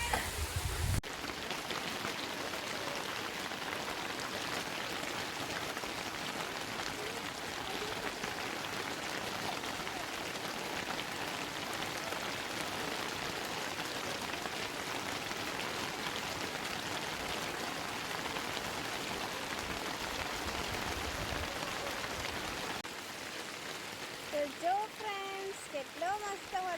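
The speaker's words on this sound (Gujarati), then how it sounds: "વરસાદ પડે છે" Steady rain falls in a dense, even hiss that runs unbroken. Near the end it eases and brief voices come through.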